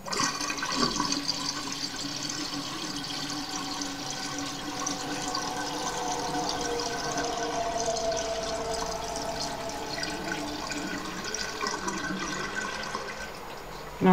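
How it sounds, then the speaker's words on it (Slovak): Water draining and gurgling from an eSpring drinking-water filter system at a home tap, a continuous rushing flow that lasts about fourteen seconds, close and steady. "No a teraz to zastavím. Vodu vypustím."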